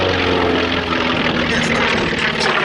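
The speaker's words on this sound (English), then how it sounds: "The Catalina in for a very nice landing." Catalina flying boat coming in to land at the Duxford air show, its propeller engines giving a steady loud drone throughout the short stretch.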